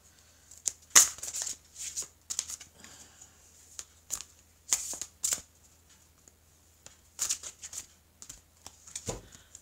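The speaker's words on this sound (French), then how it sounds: "je vais prendre maintenant une carte" Tarot cards shuffled and drawn by hand at close range, a run of crisp riffling and flicking bursts with short pauses between them and no talk.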